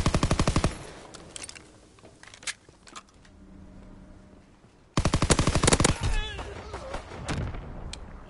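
Pistol gunfire in a video game match: a rapid loud string of shots opens, scattered single shots follow through a quieter stretch, then another fast burst, with a voice talking over parts of it.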